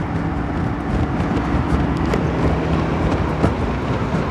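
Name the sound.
SYM Cruisym 250i motorcycle riding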